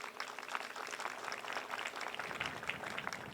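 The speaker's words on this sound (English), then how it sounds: "Let's give God a round of applause." Faint applause from a crowd at an outdoor community complex groundbreaking ceremony, an even patter of clapping heard from some distance that continues steadily without voices over it.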